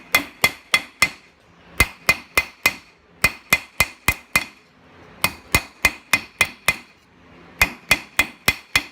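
Hand hammer blows pound a metal rod to taper it, ringing metallic strikes in quick bursts of three to six with short pauses between. The hits are close, sharp and loud, with no talking.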